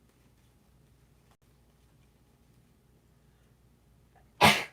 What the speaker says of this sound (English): I'm surprised this was the first time I've sneezed